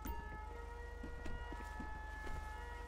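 Fire engine siren passes in GTA 5, a faint steady wailing tone over a low engine rumble, with soft scattered knocks along the way.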